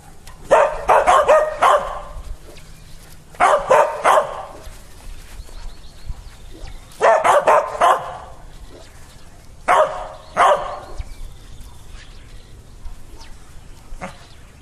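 Dogs bark outdoors during a fly casting lesson, in four loud bursts of several quick barks each, separated by pauses with quiet background.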